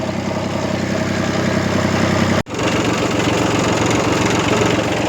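Mini tractor engine idling on a farm road, a loud, steady mid-pitched chug with a knocking pulse that continues unchanged, broken only by a momentary dropout.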